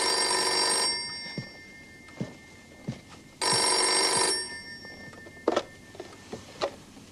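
A telephone bell rings in two loud bursts of about a second each, separated by a pause, with faint scattered knocks and clicks in between and no talk.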